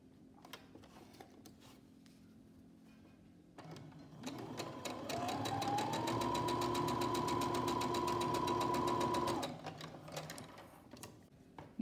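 A sewing machine stitches fabric for a rhino mask, starting up after quiet handling sounds, running steadily and loudly for about five seconds with a rapid mechanical whir, then stopping.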